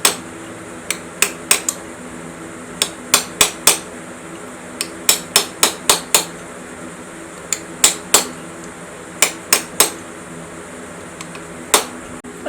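Sharp metal hammer blows driving a cam washer off the cam bolt of a Classic Mini engine during a rebuild, coming in irregular clusters of ringing strikes over a low background hum.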